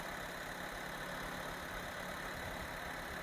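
A Maruti Alto K10 VXI+ car engine with about 5,000 km on it idles steadily, giving a continuous even hum with no breaks and no voices.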